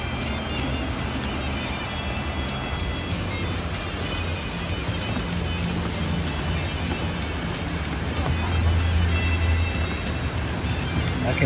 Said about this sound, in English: I can hear a waterfall.